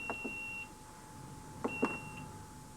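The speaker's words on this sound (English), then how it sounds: "hold the cycle button down until it gives you 2 quick beeps" A 1990s Fisher & Paykel SmartDrive washing machine emits a long electronic beep, then after a pause two quick beeps follow, each with soft button clicks.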